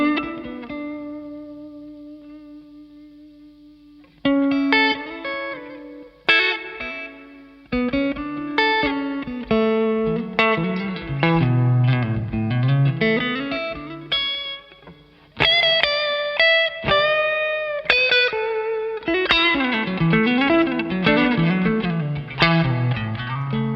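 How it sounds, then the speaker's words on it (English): A cheap electric guitar runs through a Flint reverb pedal, playing a steady stream of ringing chords and single notes with a washy, spacious tail, loud and alone, pausing briefly near the start. "I'm just going to put some reverb from a Flint on."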